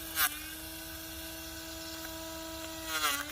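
A faint, steady motor whine from a cordless 12V grass trimmer cutting a thick plant stem hums on without a break, swelling slightly near the end, with no talking.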